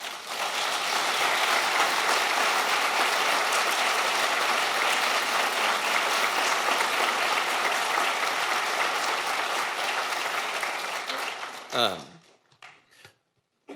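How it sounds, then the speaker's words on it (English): Applause from a gathered audience at a best friend's eulogy, sustained dense clapping for about twelve seconds that cuts off abruptly into a quiet room. "Please give them a round of applause."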